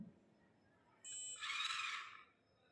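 A buzzer alarm on a sensor-based smart home model sounds when a wrong tag is presented, a brief electronic tone followed by a harsher buzz lasting about a second, faint under background noise.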